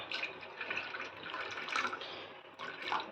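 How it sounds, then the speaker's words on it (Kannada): Cooled boiled water poured into a vessel to thin buttermilk makes a steady, close splashing trickle that runs for about three seconds with brief swells, heard alone. "ಬಿಸಿ ನೀರು ತಣ್ಣಗೆ ಆಗಿದ್ದು ಹಾಕ್ತೇನೆ ನಾನು"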